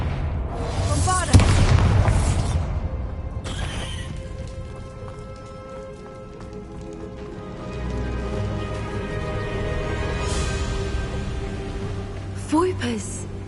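Bombarda spell explosion from the video game Hogwarts Legacy: loud booming blasts with a sharp burst near the start and later impacts, amid game effects and ambient rumble.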